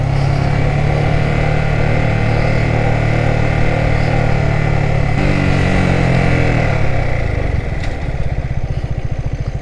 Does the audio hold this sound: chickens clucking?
no